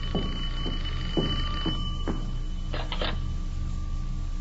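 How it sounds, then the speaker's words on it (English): An old telephone rings in a house at night, giving a series of several short bell-like rings at an even pace, each followed by a brief gap, over a steady low background hum, with no talking. "The telephone's ringing."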